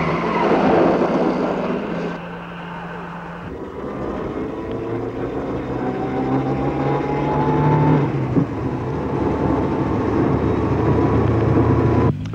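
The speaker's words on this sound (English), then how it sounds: "The rowdy arrivals of successive cars were head-turning highlights" Rally cars at the 1965 Monte Carlo Rally, including a Rover P6, roar through a town one after another, a loud, continuous engine drone that shifts in pitch as each car passes close by.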